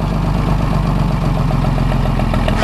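A log skidding machine's engine runs after being started, a loud, steady close-up idle with a chugging low rumble.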